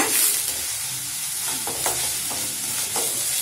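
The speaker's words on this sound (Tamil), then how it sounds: "அதனால நீங்க வெங்காயத்தை வந்து நல்லா வதக்கி ஆட் பண்ணிக்கோங்க." Onions, curry leaves and green chillies sautéing in hot oil for paniyaram, a steady close sizzle with a few soft spatula scrapes and stirring taps, no one talking.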